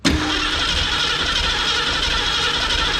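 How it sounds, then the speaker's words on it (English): A 1965 Ford Mustang engine turns over under the starter, a steady loud whirring drone that begins abruptly and holds, close and without talk. "Go ahead and start cranking it."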